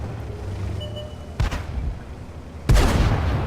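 Two heavy tank gun shots boom in World of Tanks, a sharper blast followed by a louder, deeper one, over a low ambient rumble.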